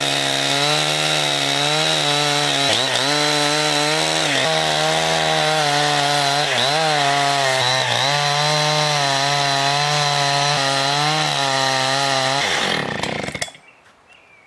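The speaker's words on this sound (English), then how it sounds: "We're going to use the Alaskan mill for the last cut, and I'll freehand this cut." Chainsaw fitted with an Alaskan mill cutting a round log into square timber, a loud, close, steady engine drone with slight pitch wobbles as the chain bites, running continuously before the engine winds down and stops near the end.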